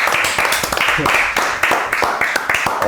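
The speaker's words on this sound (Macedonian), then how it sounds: "Многу би аплауз за Снежа." A crowd's applause for Snezha on a live talk show, a dense, steady patter of many hands clapping close by, with rhythmic bursts running throughout.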